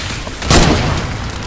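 A grenade blast in Fortnite lands as one loud, broad thud near the middle, with a lingering rumble decaying behind it over a busy game backdrop.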